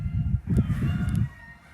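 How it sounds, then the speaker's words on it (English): Chickens on a spring homestead clucking and squawking excitedly in a short loud burst, several birds close by and agitated, then tapering off within a couple of seconds. "Chickens are going crazy over something."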